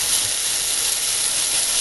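Meat sears in hot oil for a savory pot roast, giving a steady, close, even hiss of sizzling that holds at one level throughout with no voices.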